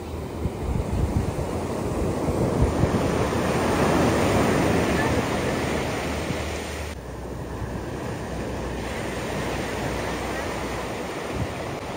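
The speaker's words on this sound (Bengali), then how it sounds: "বিশাল বড় ঢেউ" Large ocean waves break continuously on the golden-sand shore at Juno Beach in Palm Beach County, Florida, a loud, steady roar of surf with wind buffeting the microphone throughout.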